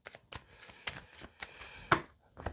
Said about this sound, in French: bien mélanger le jeu de 32